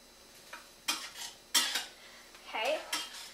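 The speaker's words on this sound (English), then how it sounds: "I'm going to stir that in, let it saute." Onion sautéing in butter, stirred with a metal spoon against the pot: a handful of bright clinks and scrapes over a faint sizzle, close and without talk.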